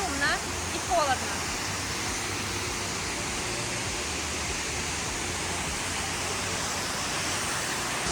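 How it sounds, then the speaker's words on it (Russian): Chegem waterfalls in Kabardino-Balkaria: a constant loud roar of falling water filling the whole scene, steady and unbroken, with brief sounds near the start and no clear talk over it. "Мы с вами вместе на водопадах. Очень красиво. Очень шумно и холодно."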